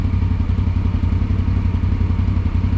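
A 2020 CFMOTO CForce 800 ATV on stock tires with the stock clutch accelerates hard from a standstill toward 40, its engine a steady loud drone with rough low rumble throughout.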